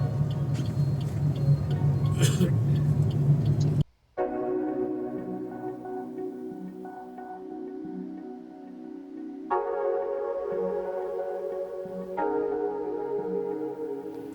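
A car travelling the road toward the Yelagiri hill station, a low steady cabin rumble and engine drone that drops out abruptly partway through, then returns as a quieter hum with tonal shifts, no voices.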